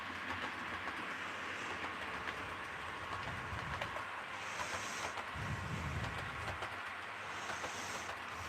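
An HO scale SD40 model locomotive running on track gives a steady whirring rumble with faint rhythmic clicking throughout, fairly quiet and with no talk.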